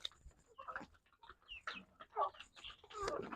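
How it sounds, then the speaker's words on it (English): Village chickens cluck and peep in short scattered bursts while being fed outdoors, sounding close and fairly quiet with no talking. "I'm feeding my chicken"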